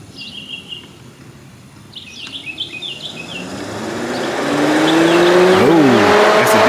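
A C6 Corvette cooling fan switched to full speed swells into a loud, steady whooshing roar that builds over the last few seconds, with a few bird chirps audible outdoors before it takes over.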